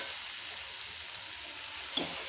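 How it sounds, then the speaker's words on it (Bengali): Spices with ginger paste, turmeric and chili powder fry in a pan, a steady soft broadband sizzle with a brief scrape of stirring near the end. "হালকা একটু চিনি দিয়ে ভালো করে মশলাটা কষিয়ে নেব"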